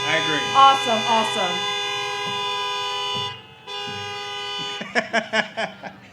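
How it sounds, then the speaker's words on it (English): A long sustained car horn blast, then a short break and more horn tone, ending with a rapid series of short toots at a 2021 fashion show event; voices are audible underneath. "can I get 2 honks?"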